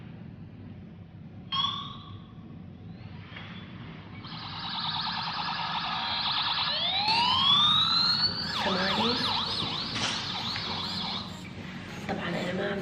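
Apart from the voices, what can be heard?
police siren sound played from a mobile phone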